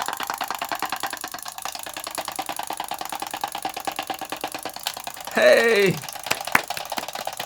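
A 1980 Tomy wind-up tabletop bowling toy runs with a steady, rapid mechanical whirring and ticking throughout, close by, and a brief clattering burst partway through like pins being struck; a voice calls out once.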